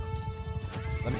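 Horse neighing briefly during a medieval battle in Mount & Blade II: Bannerlord, a quick whinny over hoof clatter and combat noise, fairly faint.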